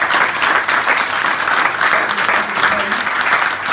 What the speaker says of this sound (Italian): oggi facciamo un applauso a tutti quelli che ci vedono con il raggio